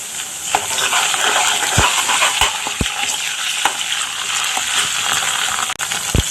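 Ginger garlic paste goes into onions browned in hot oil with cumin for an amaranth leaf and tomato curry, setting off a loud, steady sizzle close up, broken by a few sharp clatters of stirring.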